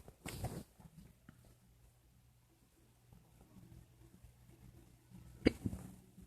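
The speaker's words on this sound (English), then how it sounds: "I got such bad hiccups." A person with a bad bout of hiccups lets out two sharp, jolting hiccups several seconds apart, the second louder, with soft breathing and faint shuffling in a quiet room between them.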